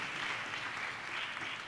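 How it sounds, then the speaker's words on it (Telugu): Church congregation clapping in praise during a Telugu sermon, a faint, steady wash of many hands heard from a distance with no talk over it. "దేవునికి చప్పట్లు కొడుతూ స్తోత్రాలు చెప్దాం."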